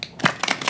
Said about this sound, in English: I'm going to give these a nice big shuffle